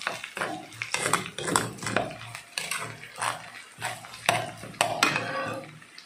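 Ingredients being sautéed in a pan, with clinks and scrapes of a utensil against the metal in irregular bursts and a soft sizzle underneath, close and moderately loud.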